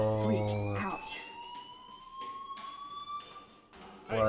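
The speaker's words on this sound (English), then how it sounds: "Do you hear that fire alarm?" A school fire alarm in the video game Life Is Strange rings as a continuous electronic tone that slowly rises in pitch, moderately loud, with a voice talking over it at the start and end.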